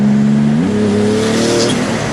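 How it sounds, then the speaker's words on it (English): A 2018 Porsche 911 GT2 RS engine revs hard on a twisty back road, its loud, steady engine note climbing sharply in pitch partway through and holding high, with no talking. "you really can't put the throttle all the way down for very long on a back road like this"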